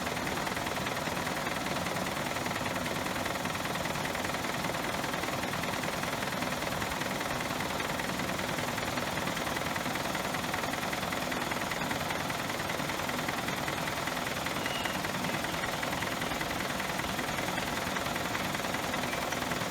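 A car engine idles steadily with a dense, even rumble and rattle, its oil breather feeding an oil catch can; the noise runs unbroken and fairly loud throughout with no voices.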